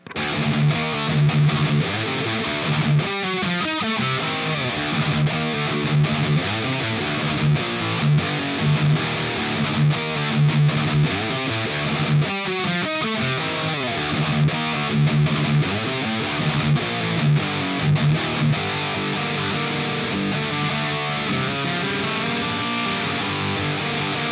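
A heavily distorted electric guitar plays a sustained, chugging riff in the style of a metal main track, loud and dense, with rhythmic accents and no voices.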